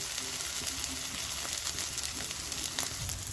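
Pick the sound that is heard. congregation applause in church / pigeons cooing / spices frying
spices frying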